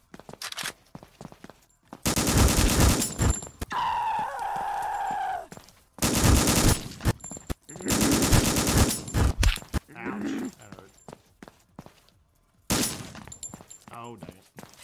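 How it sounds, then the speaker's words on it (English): M16 rifle gunfire in a horror video game, coming in loud, dense bursts of rapid shots separated by short pauses, with a voice talking between the volleys. "M16, baby. Let's go."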